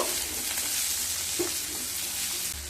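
Onions and capsicum frying in a pan, a steady close sizzle throughout with a brief stir partway through.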